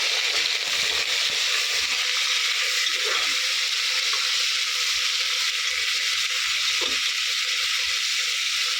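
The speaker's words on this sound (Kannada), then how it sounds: "ಆನಿಯನ್ ಸ್ವಲ್ಪ ಫ್ರೈ ಆಗಲಿ" Onions fry in a pan for a chicken biryani, sending up a constant loud, dense sizzle with a few faint scrapes and clinks of stirring underneath, close and unbroken throughout. No one talks.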